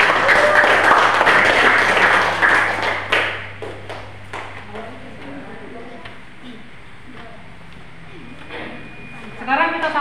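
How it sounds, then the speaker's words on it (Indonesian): A classroom claps for a student group, a burst of dense clapping for the first few seconds that thins into scattered claps, with quieter voices and room noise following. "Beri tepuk tangan untuk kelompoknya Pangeran Diponegoro."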